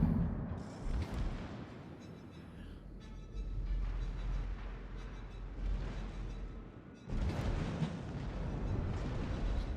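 Secondary guns of a Brandenburg battleship firing in the naval game World of Warships, a dense run of rumbling, overlapping booms with a louder burst late on, under steady in-game engine and sea noise.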